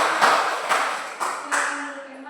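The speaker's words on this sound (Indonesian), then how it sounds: "Tepuk tangan." A class claps hands together in a teacher-led routine, four sharp group bursts about every half second to second, each trailing off, with a faint tonal ring at the end.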